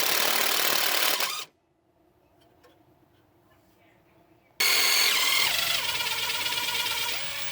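A loud power-tool whir from an impact drill breaking loose a brake caliper bolt on a 2007-2013 Nissan Rogue, running in two bursts separated by a quiet pause.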